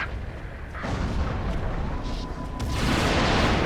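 Mortar and artillery fire rumbles through a wartime battle in the video game Resistance, with a dense, continuous roar of booms and blasts that swells louder toward the end, no voices.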